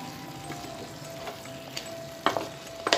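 A spoon scrapes and stirs mutton korma with mint, green peas and baby potatoes in a pan, with a soft continuous sizzle broken by a few sharp utensil clinks, loudest near the end.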